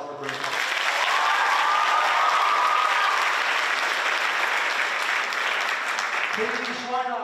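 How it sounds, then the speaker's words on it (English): Sustained applause from a choir concert audience fills the hall, a dense even clapping roar held for several seconds before fading as a voice begins to speak. "Can we have a round of applause for Grant Parks?"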